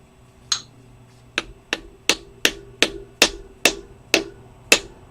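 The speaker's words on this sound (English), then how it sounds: "We have hammer here." A hammer strikes an MGB rear axle input oil seal in about ten sharp metallic blows, spaced irregularly at first, then in a steadier rhythm, close and loud.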